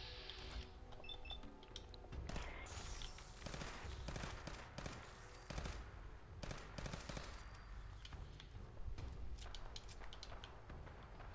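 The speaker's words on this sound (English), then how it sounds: "He's still back there shooting" Gunfire from a character shooting in Fallout 4, heard as irregular bursts of sharp cracks spread through the stretch, some rapid like automatic fire, moderately loud over a steady game background.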